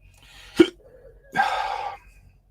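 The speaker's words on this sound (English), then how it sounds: "Am I going to hiccup again?" A person hiccups once, a short sharp catch of breath, then a longer breathy exhale or gasp follows about a second later, close and fairly loud in a quiet room.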